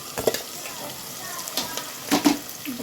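Onion, ginger and finely chopped garlic stirred and frying in a pan for palak pulao, with a soft steady sizzle and a few brief clinks and scrapes of a spoon against the pan.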